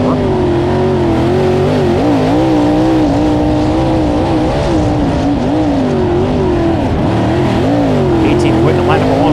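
A USAC sprint car, the number 04, runs at a Bill Gardner Sprintacular race. Its engine roars loud and close without a break, and the pitch rises and falls as the throttle is worked.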